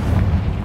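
Confringo spell explosion in Hogwarts Legacy, a brief, loud, deep boom with a rumbling burst.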